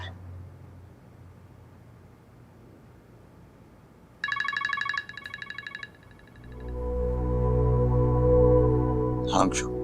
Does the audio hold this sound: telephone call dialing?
yes